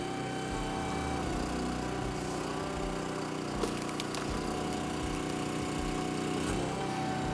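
A Split Fire 4290 commercial log splitter's engine runs steadily and loudly throughout, a constant mechanical drone with a brief clank near the middle.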